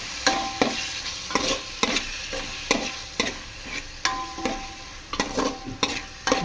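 Drumstick biryani masala with turmeric and a little yogurt sizzles in a pan while a spoon stirs it, scraping strokes coming in an irregular rhythm over a steady frying hiss, close and clear.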